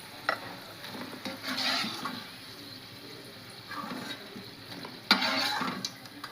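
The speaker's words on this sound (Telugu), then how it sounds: "బాగా ఫ్రై అయినాయి కదా, నేను మీడియం మంట మీద పెట్టి ఫ్రై చేశాను." Potato and amaranth leaves frying in plenty of oil on a medium flame, a soft steady sizzle broken by a few louder stirring scrapes and pan knocks, near and without voices.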